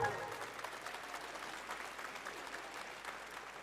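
Sparse, half-hearted applause from a live crowd at Summer Game Fest, a thin steady patter of scattered clapping that holds at an even, moderate level throughout.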